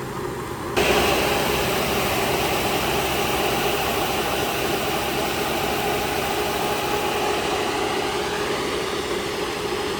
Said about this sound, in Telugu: ఇంకో ట్రాక్టర్ కానీ వచ్చేసింది.